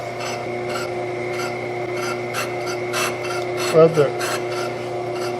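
A lathe cutting bit lightly grazing a disc brake rotor, giving a faint intermittent scraping touch over a steady machine hum, with a brief louder rub near the end; someone speaks briefly.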